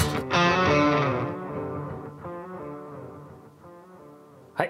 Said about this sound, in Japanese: まずはエコーから。